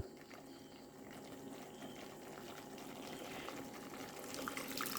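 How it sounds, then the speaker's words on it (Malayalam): A coconut spice paste with added water comes to a boil in a pot for a Kerala ash gourd buttermilk curry, giving a steady low bubbling and simmering hiss with no talking. "അപ്പോൾ നമ്മുടെ അരപ്പ് തിളച്ച് വരുന്നുണ്ട്."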